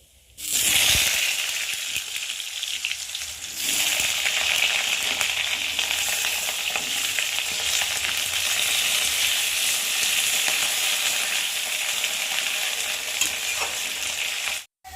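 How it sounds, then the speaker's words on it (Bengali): Cut potatoes drop into hot oil with cumin seeds and a bay leaf and fry with a loud, steady, close sizzle for the whole stretch, with a few stirring sounds and no talk. "আর এখন এই যে কেটে রাখা আলুগুলোকে দিয়ে ফোড়নের সাথে একটু ভেজে নেব"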